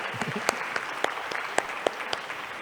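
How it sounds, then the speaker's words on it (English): An audience at a college's 30th anniversary celebration claps for a guest professor, a scattered, moderate round with a few sharper individual claps standing out. "the first thing we should be doing is giving a loud round of applause"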